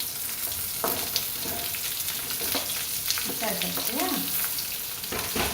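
Onions sautéing in oil make a continuous sizzle with scattered stirring scrapes and clatter, plus a brief murmur of a voice in the background.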